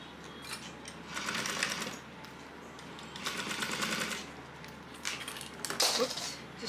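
A sewing machine back stitching a seam with a 3/8 inch allowance on a crossbody bag, several quiet rapid whirring runs separated by pauses, close up, with faint clinks.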